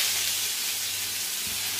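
Mincemeat balls frying gently in a pan over low heat, giving a steady, soft sizzle and hiss that holds level throughout, with a faint bubbling pop near the end and no talk.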